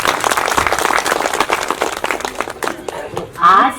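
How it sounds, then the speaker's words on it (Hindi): An audience at a daytime talk on the art of happy living breaks into dense, steady applause, loud and close, with a brief surge near the end. "ताली बजाइए अपने लिए"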